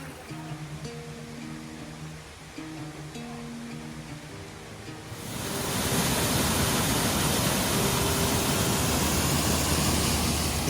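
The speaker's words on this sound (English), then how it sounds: "Not only do you get a waterfall at the end, but you get little small waterfalls along the way." Waterfall on a north Georgia hiking trail: steady broadband rushing water swells in and grows loud about halfway through, with a quieter distant murmur and faint tonal hum before it.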